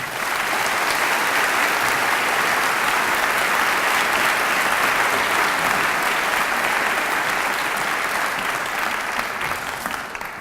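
An audience at a medical school white coat ceremony breaks into sustained, dense applause welcoming a speaker, loud and steady for about ten seconds before tapering slightly.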